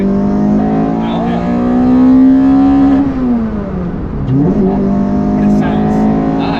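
A Toyota MR2 with a 2ZZ engine revs loudly and close, the pitch climbing high toward 8000 rpm, dropping sharply as the gear changes, then rising again, with voices talking over it.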